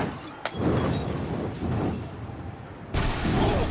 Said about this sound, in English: Use a Molotov and let's see some flames